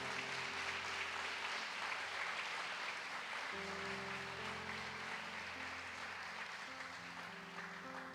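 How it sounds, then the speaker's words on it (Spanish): A church congregation applauds steadily throughout, a dense wash of clapping with sustained organ or keyboard tones beneath, at even loudness. "Dele un fuerte aplauso a Dios si usted siente ese amor."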